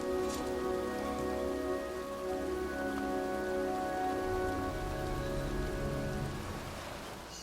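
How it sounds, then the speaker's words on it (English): Steady rain falling in the video game Heavy Rain, a continuous close wash of drops on surfaces that holds evenly throughout with a low background hum beneath and no voices. "It's raining."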